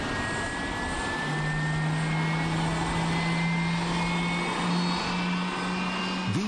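Boeing 747-400 taking off on four jet engines, a loud, steady roar with a rising whine that holds throughout, close by and with no voices.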